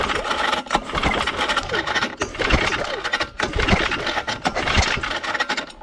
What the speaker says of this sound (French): tu lances ton moteur avec le lanceur comme ça, en tirant dessus